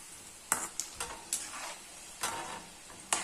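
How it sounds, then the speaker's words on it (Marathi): Shankarpali dough pieces frying gently in oil over low heat, a soft steady sizzle broken by several sharp clinks and scraping strokes of a utensil against the pan. "अशा पद्धतीने आपण आता सगळं शंकरपाळा तळून घेऊया"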